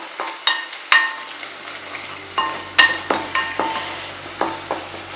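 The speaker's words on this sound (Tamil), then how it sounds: "இப்போ இந்த கொத்தமல்லியும் புதினாவையும் போட்டு நல்லா இதிலே வதக்கிக்க." Coriander and mint leaves are stirred and sautéed in a pan for a vegetable paya, with a low sizzle under repeated scraping and clinking of a spoon against the pan.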